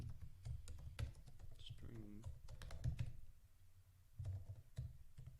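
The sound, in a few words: typing code on a computer keyboard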